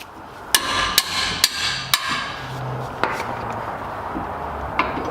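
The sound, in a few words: hammer hitting brake caliper bracket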